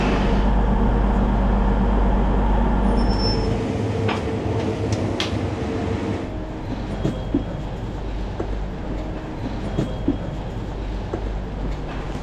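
A train running toward Birmingham, heard from on board or close by as a loud steady rumble throughout, with occasional clicks and rattles of the wheels on the track and no talk.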